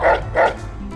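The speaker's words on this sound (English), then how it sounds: "Hello, doggy." Two loud, close barks in quick succession from a dog in the video game Fallout: New Vegas, followed by a brief quieter trailing sound.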